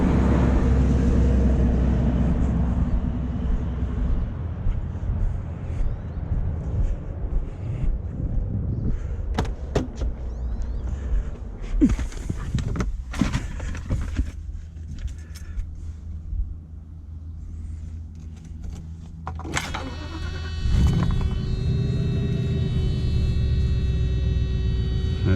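A 420 car engine cold-starting after sitting overnight, with about 129,799 miles on it: a steady low idle rumble runs throughout, with clicks and knocks in the middle, then a fresh surge and rougher running near the end, and no voices.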